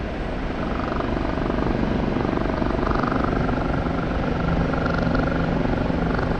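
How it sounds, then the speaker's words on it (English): The engine and rotors of a Kiowa helicopter in a video game roar steadily at maximum speed, a loud, unbroken drone with a fast rotor beat throughout. "Let's get maximum speed out of the helicopter, so torque it as much as we can here."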